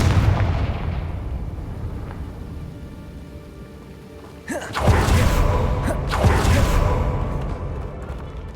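In Hogwarts Legacy, a Confringo fire spell goes off: a quiet, hissing ambience gives way to a sudden loud blast followed by crackling, rumbling bursts that fade out.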